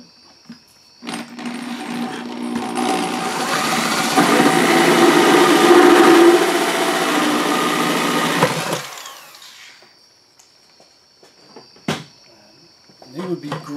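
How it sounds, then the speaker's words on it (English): A power drill whines steadily for several seconds as it bores through the bottom of a plastic bucket, then cuts off, followed by a few light clicks and handling noises. "I'm going to drill a hole right through the bottom of this bucket"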